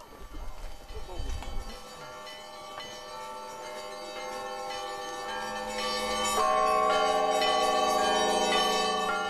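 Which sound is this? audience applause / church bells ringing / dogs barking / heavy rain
church bells ringing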